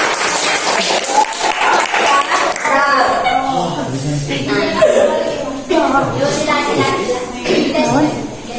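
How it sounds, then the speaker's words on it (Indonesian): A class of schoolchildren claps hands in bursts during a lesson, mixed with chatter and light laughter, close and lively. "Oke, tepuk tangan semua"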